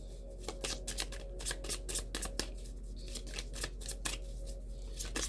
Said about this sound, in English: Shuffling up real good.